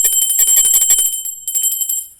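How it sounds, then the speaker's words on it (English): Bright bell chime of a post-notification sound effect, a rapid run of ringing strikes for about a second, then a shorter burst after a brief pause, loud and alone. "the post notification bell, blue bell"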